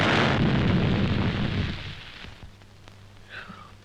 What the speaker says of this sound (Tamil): என்னடா இது ஒரே நாட்டு வெடிகுண்டா இருக்கு.